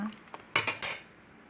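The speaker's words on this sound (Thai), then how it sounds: "แล้วเราก็ค่อย ๆ คนให้เข้ากัน" A utensil stirs bamboo shoot curry with pickled bamboo shoots and mushrooms in a pot, producing a few close, quiet metallic scrapes and clinks in a short burst, with no voices.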